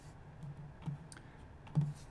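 A couple of quick, light computer keyboard key presses while entering a number in graphic design software, two soft clicks spaced about a second apart over faint room noise.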